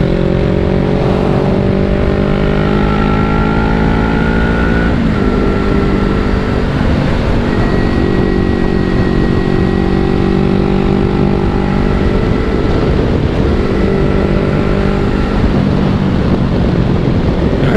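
A motorcycle engine drones loudly and continuously while riding the open roads of the TT course, its pitch climbing through gears with shifts and buffeting wind noise throughout.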